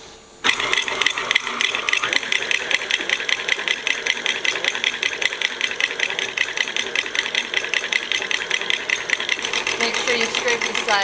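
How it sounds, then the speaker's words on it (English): Stand mixer beating butter and shortening into buttercream frosting, a steady loud whirring motor with dense rhythmic churning that starts abruptly and runs continuously without pause. "you beat butter and shortening until light and fluffy."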